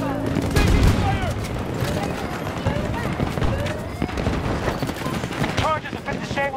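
Gunfire in the video game Battlefield 2042 crackles in dense, overlapping bursts alongside explosions, with voices shouting over the combat.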